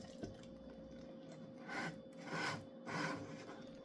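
Spatula scraping down the sides of a sourdough starter jar after mixing, three soft rasping strokes close up with faint handling noise before them.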